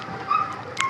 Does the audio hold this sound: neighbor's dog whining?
yes